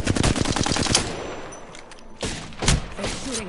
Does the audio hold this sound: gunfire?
yes